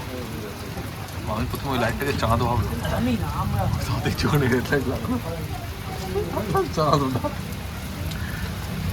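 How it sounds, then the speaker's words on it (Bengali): Heavy storm rain pours steadily beside a roadside house, a loud continuous hiss under close conversation as people shelter from the downpour. "এত জোরে বৃষ্টি শুরু হয়ে গেছে হঠাৎ করে যে আর বাইক চালানো যাচ্ছে না"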